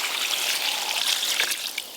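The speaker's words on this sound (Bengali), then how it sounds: "এবার জল দিয়ে সেদ্ধ করে নেব।" Water poured into a pot of fish curry with potatoes and ridge gourd, a close, steady splashing trickle lasting about two seconds.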